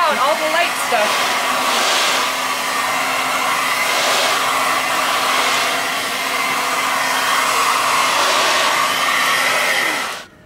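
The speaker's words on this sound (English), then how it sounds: "So I have a hairdryer handy, and I'll turn it on, and it just will blow out all the light stuff." A hairdryer blows light chaff and crumbs out of harvested dried cannellini beans, giving a steady, loud, close whooshing roar that runs unbroken for about ten seconds before cutting off.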